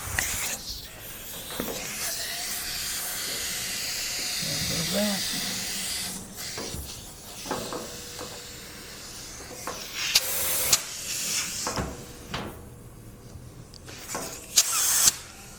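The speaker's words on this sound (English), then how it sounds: "Reinflate the tyre." Motorcycle tyre being reinflated after a puncture repair, a steady hiss of air flowing in with brief bursts and pauses, while people talk nearby.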